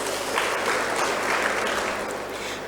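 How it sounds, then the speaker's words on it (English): A conference audience at an opening ceremony gives a round of applause, with sustained, even clapping from a large crowd that fills the room at steady loudness. "Let us give them a round of applause."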